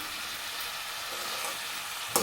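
Carrot curry with tomato and chilli powder fries in a pan with a steady close sizzle. A soft stirring scrape runs under it, and a sharp clink of the utensil comes at the very end.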